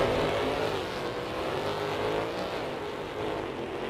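Derby race cars on the Slinger Speedway oval in the video game Rigs of Rods give a continuous engine drone, loud and steady with slight rises and falls, like several cars running together.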